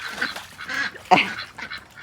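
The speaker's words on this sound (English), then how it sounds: "The ducks don't seem to want their food today, but they are swimming in the water dishes." Ducks quack and honk in a short flurry of nasal calls, close by, with no talking.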